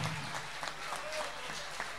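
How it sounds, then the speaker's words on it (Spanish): Faint, steady applause from an audience at a grill restaurant's live music night, greeting the band, with scattered louder claps throughout. "Ese aplauso para toda la banda tocando en vivo esta noche."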